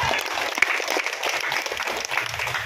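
Clapping from the crowd at a community gathering, moderately loud and continuous, with a sharp single clap standing out early and some low murmur underneath.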